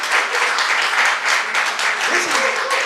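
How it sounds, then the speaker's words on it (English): A crowd at a Clarksville Ward 5 city council candidate forum applauds, a dense, steady wash of clapping that fills the room for a few seconds with some voices mixed in. "Give them a big round of applause."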